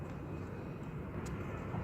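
An aircraft at Cologne-Bonn airport, a steady distant engine rumble and roar that holds at a low, even level through the clip.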